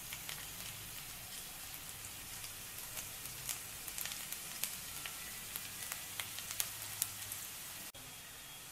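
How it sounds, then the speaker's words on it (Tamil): Garlic sizzles in hot oil in a wok-style pan, a soft, steady crackle with scattered sharp pops, faint and continuous throughout. "வானலில் கொஞ்சம் எண்ணெய் விட்டுட்டு பொடியாக கட் பண்ண மூணு பல் பூண்டை சேர்த்துடலாம்"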